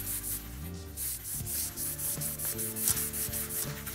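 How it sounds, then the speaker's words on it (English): A cloth soaked in kerosene is rubbed back and forth along a clock mainspring, giving soft, rhythmic swishing strokes, close and fairly quiet. "starting at the end of the spring, we wipe it backwards and forwards."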